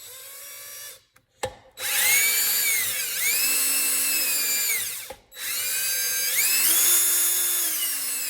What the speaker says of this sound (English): I'm also pulling back on the drill